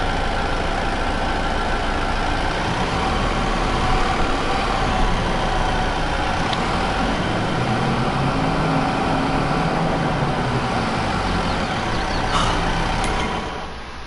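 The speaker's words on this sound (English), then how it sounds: "This tractor is not gonna do it" A tractor engine from Farming Simulator 22 runs steadily and loudly for a long stretch, a continuous heavy drone with a faint hiss near the end before it dips slightly, with no voices.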